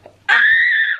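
A person shrieks loudly while having makeup applied, one sustained high-pitched scream lasting most of a second, close and alone after a brief quiet moment.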